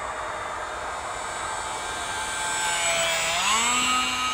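A small UMX Gee Bee R-2 radio-controlled model plane flies past, its electric motor whine steady and then rising and bending in pitch as it passes close, with no talk.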